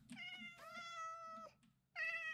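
A Minecraft cat meows in the video game, giving two long clear meows with a brief pause between them and a third starting at the end. The meows are close and isolated, with no talking.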